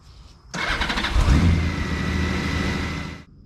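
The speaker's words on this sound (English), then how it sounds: "the first thing you're going to want to do is start your bike" A Honda GL1800 Goldwing motorcycle engine cranks and catches, then settles into a steady close idle for a few seconds before cutting off abruptly.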